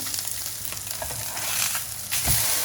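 Fresh tuna sears in a hot pan for a burger, cooked rare like a tataki. It makes a steady, close hissing sizzle with small crackles and spits throughout.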